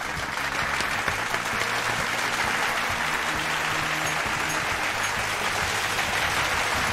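Sustained applause, steady and dense throughout, with cheering crowd noise mixed in and a few low tones under it.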